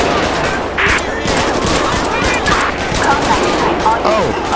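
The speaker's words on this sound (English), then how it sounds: "Shots fired, shots fired." Rapid gunfire from the video game GTA V during a sheriff patrol, dense bursts of shots layered with crackling noise, loud and continuous, with voices talking over it.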